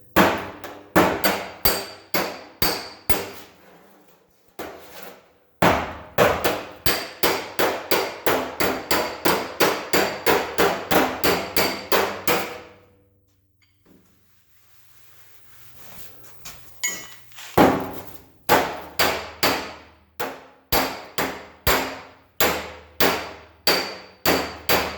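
Car body dents being worked with a slapper, hammer and dolly: loud, rhythmic metallic blows in long rapid runs, broken by short pauses, with no talk.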